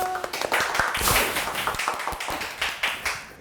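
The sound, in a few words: audience applause for a singer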